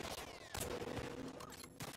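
Rapid gunfire from auto-aim shooting in The Last of Us Part II cracks out in quick bursts, quiet and slightly distant, with short gaps between shots.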